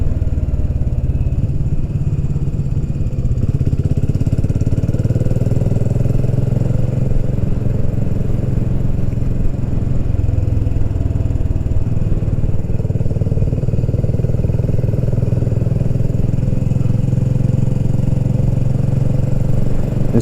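A motorcycle rides along a road in Portugal, its engine droning loudly and steadily throughout with a constant low rumble and no talk.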